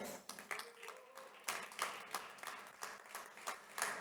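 Audience at a health congress applauding and cheering as each speaker is introduced, a dense burst of claps with rising and falling swells over roughly four seconds, fairly faint and from a distance.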